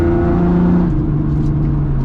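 Nissan 350Z with a VQ V6 engine revving, a loud, close, sustained engine note with a steady rising-and-settling pitch, no talking.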